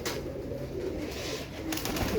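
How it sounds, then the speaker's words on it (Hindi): A flock of 38 pigeons of the Ali wale, 35 wale and Batare breeds coos softly in a low, continuous murmur. The sound is faint, with a slight scuffling rise near the end. "ये हैं 38 कबूतर। इनमें अली वाले भी हैं"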